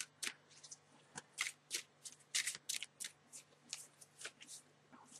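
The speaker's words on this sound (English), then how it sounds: "I'm going to do some shuffling now, see what's coming through for Aries" Tarot cards are shuffled by hand in a quiet room, a run of crisp riffling bursts and soft flicks in an uneven rhythm, close and fairly quiet, with no talking.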